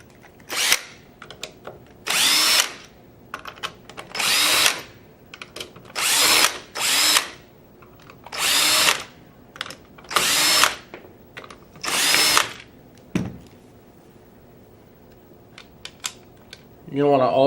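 A power driver removes receiver screws from a Tippmann Gryphon paintball marker, whirring in about nine short bursts separated by brief pauses, close and fairly loud, ending with a faint mechanical whine.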